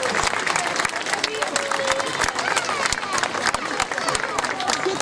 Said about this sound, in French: On peut l'applaudir bien fort, Pascal.